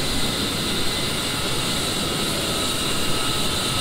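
A simulated A-10C jet engine in the flight game DCS spools up with a steady, loud turbine roar and hiss, holding evenly throughout with no speech.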